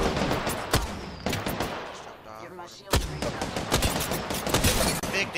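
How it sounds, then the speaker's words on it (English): Rapid video-game gunfire in an online shooter match, with sharp bursts and single shots cracking at close range through most of the stretch, brief lulls between volleys and faint voices underneath. "They're shooting at me from 200."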